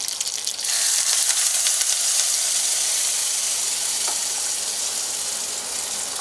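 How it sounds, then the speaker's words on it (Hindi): Mustard seeds crackling and sizzling in hot oil for tempering, a loud continuous frying hiss with scattered sharp pops close up, no voices. "जब तक ये राई का दाना पूरा नहीं चटक जाता तब तक आपको इसमें तड़का नहीं लगाना चाहिए"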